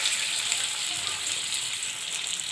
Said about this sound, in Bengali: কড়ায় তেল গরম হয়ে গেছে